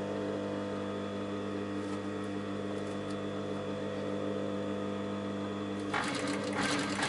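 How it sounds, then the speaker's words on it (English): A sewing machine runs steadily, stitching piping around the neckline seam of a garment, with a constant mechanical hum throughout and a brief burst of louder rattling near the end. "with the piping I'm opening up the seam and I'm piping and using the seam line as a guideline"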